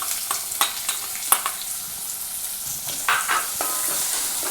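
Onions dropped into a hot pan for a chicken kachori filling, frying with a bright sizzle while a spoon scrapes and stirs in several quick strokes; close and fairly loud.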